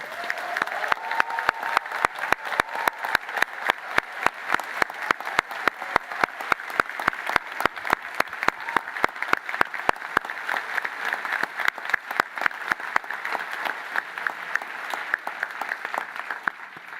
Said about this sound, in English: give one special round of applause to all our graduates here and online